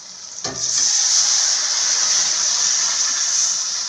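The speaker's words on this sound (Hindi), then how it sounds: "अब हम इसमें पानी डालेंगे।" Water hits a pan of frying chicken and vegetables, setting off a sudden loud hiss that swells into a steady, bright sizzle of steam and holds, close up, with no talk.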